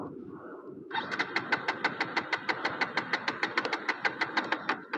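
A KTM Duke 250 motorcycle cranks and fires up, then settles into a loud, rapid, even idle pulse close by.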